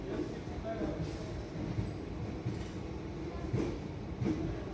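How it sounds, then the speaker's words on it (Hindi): The Mahalaxmi Express stands at Satara railway station, its low rumbling engine and carriage noise filling the platform steadily, with faint clanks and muffled voices mixed into the background. "ये जो ट्रेन आप देख रहे हैं, ये हमारी ट्रेन नहीं है, ये है महालक्ष्मी एक्सप्रेस"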